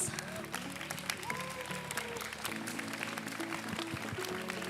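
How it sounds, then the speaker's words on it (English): A round of applause from the audience at a TEDx event in Hong Kong, a soft, distant patter of clapping heard alongside room noise and faint voices. "Let's give everyone a big round of applause."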